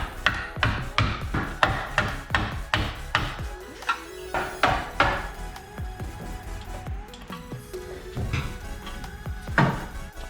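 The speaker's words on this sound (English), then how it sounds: "take a flathead screwdriver and a hammer" Repeated sharp metallic taps in an uneven rhythm, close and fairly loud, a hammer striking a flathead screwdriver on a carbon fiber splitter, with brief pauses between bursts.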